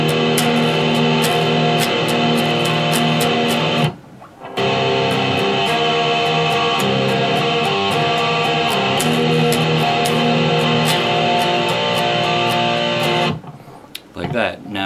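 Distorted electric guitar plays a riff, with sustained strummed chords and high notes ringing over low strikes, loud and close, broken by two brief pauses.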